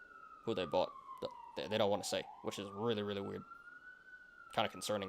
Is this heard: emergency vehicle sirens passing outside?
yes